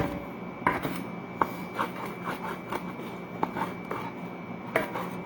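A knife chops through crisp celery on a board in quick, irregular strokes, each cut a sharp crunchy tap over a steady background hum.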